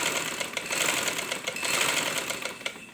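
A sewing machine stitches a shirt sleeve to a kameez body, a fast steady mechanical whir with faint rhythmic clicks, close and continuous.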